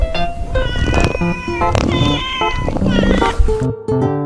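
A cat meows loudly and close, several drawn-out cries in quick succession with no other sound.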